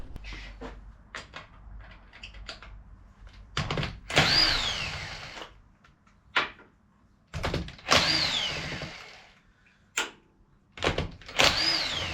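Impact gun tightening wheel nuts on a Ford Puma during a DIY tyre change, heard as several short, loud rattling bursts separated by clanks and handling noises, with no talk.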